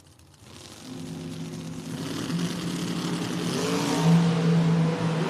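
Gary Williams's drag race car, the Boss Lady, launches down the strip. Its engine roars steadily louder and climbs in pitch over several seconds, close and alone with no talking.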